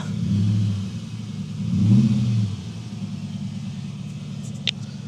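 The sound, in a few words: SUV exhaust revving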